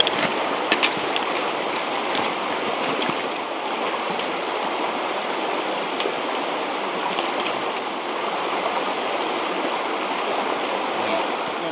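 Water of Cowlick Creek in the Rockies rushes and splashes steadily as it is crossed, a broad continuous flowing roar heard close up with no talking.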